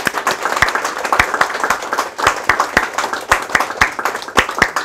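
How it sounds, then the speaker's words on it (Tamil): An audience applauds a couple in a steady burst of clapping from many hands, close and fairly loud, with no talk over it. "தம்பதிகளுக்கு ஒரு கைத்தட்டுதலோடு வாழ்த்து கொடுங்க"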